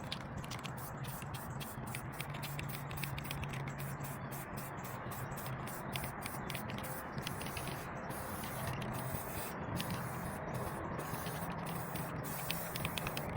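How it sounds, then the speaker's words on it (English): An aerosol can sprays metallic aluminum paint onto a 3D-printed Mandalorian armor prototype, a steady, close hiss that runs unbroken from start to finish, with no talking. "I will be using metallic aluminum and I'm going to get spraying."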